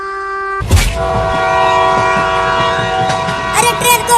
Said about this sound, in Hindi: देखो एक और ट्रेन आ रही है।